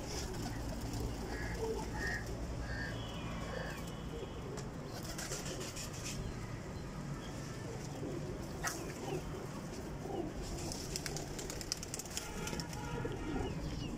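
Breeder pigeons coo and rustle in a steady, dense chorus close by, with occasional clucking calls and someone talking over them throughout.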